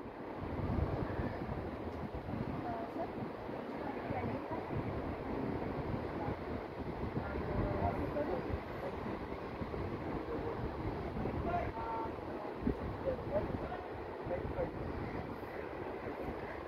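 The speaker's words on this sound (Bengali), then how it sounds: "সুদিং না বাতাসটা?" Wind blows continuously at a hillside bungee and zipline spot in Kushma, a broad buffeting rush across the microphone, with a voice faintly heard at moments.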